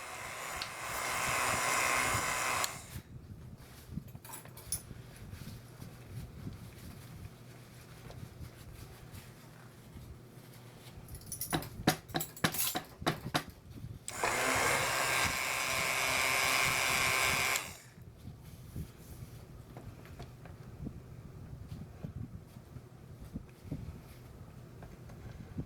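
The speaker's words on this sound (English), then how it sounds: "So he is using the stick blender only for brief periods of time" A handheld stick blender whirs in short bursts as it mixes soap batter for a swirled soap, two loud buzzing runs separated by quieter pauses with faint clatter.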